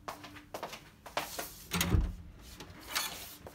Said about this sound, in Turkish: kapıyı açalım